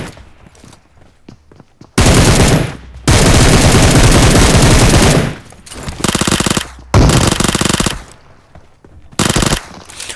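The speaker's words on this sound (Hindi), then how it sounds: "मुझे एक बंदे की साउंड आती है गन के साथ। इसको मैं फिनिश कर देता हूँ।" Automatic gunfire in a battle royale video game, heard as loud, close rapid-fire bursts, several in a row, one long stretch and shorter volleys with brief pauses between them.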